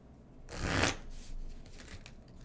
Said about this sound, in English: How is it loud when I shuffle the deck?